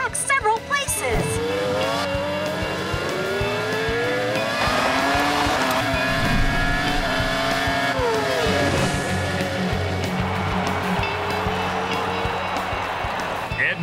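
Cartoon race cars roar past in a continuous, loud blur of engine noise and tire squeal, layered over busy background sound.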